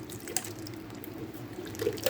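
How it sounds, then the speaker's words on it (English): A can of stewed tomatoes glugs and splashes into a slow cooker of meat, a soft, close wet pour with small drips over about two seconds. "Add our can of stewed tomatoes."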